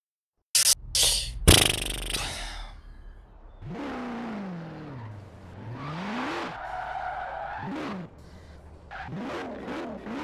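Cars in a sprint race in Forza Horizon 4: engines rev hard and wail up and down through gear changes, with a loud burst at the start and swooping passes.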